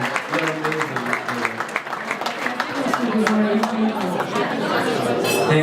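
Audience at a fundraising dinner applauding, the clapping swelling under crowd chatter with people talking throughout.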